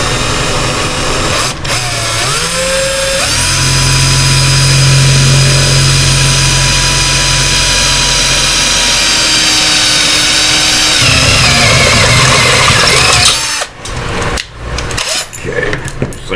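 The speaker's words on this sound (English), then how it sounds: "I'm going to drill our fire hole a bit." A power drill bores a fire-button hole into a metal box mod enclosure, a loud sustained whine that ramps up and holds steady for several seconds before cutting off into clattering handling noise.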